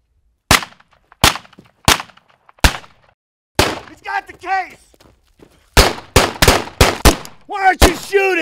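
Gunfire in a film scene: sharp loud single shots spaced about a second apart, then a burst of rapid shots mixed with shouting voices, close and punchy.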